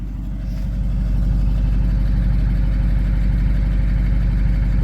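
A 1954 Packard Panama engine idles smoothly through a newly replaced exhaust, a steady, low, even rumble with no misfire, close and continuous with no one speaking.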